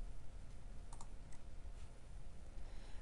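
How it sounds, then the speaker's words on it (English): A computer mouse clicking, two or three small, faint clicks close together over a steady background hiss. "I'm going to click on practice questions"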